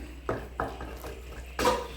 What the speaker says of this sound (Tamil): இப்போது நல்லா கலந்து விட்டு அப்படியே கொதிக்க விட்டுடலாம்